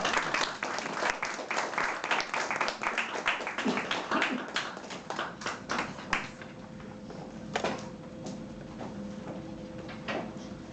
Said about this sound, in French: je vous demande d'applaudir Madame Vanisha